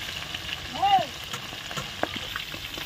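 Chicken legs sizzle steadily as they fry in hot oil until browned, with a faint brief squeak and a soft clink near the middle.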